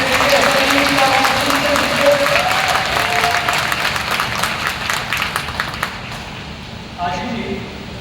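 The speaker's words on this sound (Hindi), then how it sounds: "एक बार जोर से तालियां हो जाए आप लोगों की" Applause from the audience at a panel discussion during a manifestation retreat in Delhi, with clapping and some cheering that gradually thins out. A voice talks over the start and speaks again near the end.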